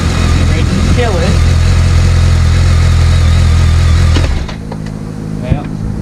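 A BMW K1200 GT motorcycle engine runs with a steady, loud, throbbing idle, then cuts out abruptly after shifting into gear, leaving a quieter background with a few clunks; a voice talks over the running engine.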